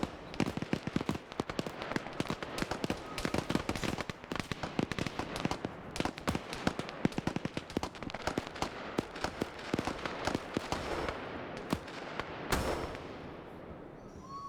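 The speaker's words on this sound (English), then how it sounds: "He's shooting at the little silhouette up there." Video game gunfire pops and cracks in dense, rapid bursts, many shots overlapping at a steady loud level, with one heavier blast near the end.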